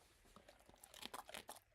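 A dog bites down on a crunchy pet treat stick, giving a quick series of faint, brittle crunches and chewing snaps, close up, over a quiet background.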